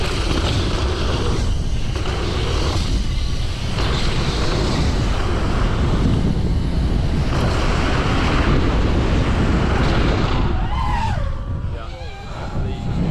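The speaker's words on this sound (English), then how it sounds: "Wow, that was a massive gust." A massive gust of wind roars across the microphone at an outdoor mountain-bike freeride event, a loud, continuous rushing buffet that barely eases for the whole stretch, with a voice briefly audible near the end.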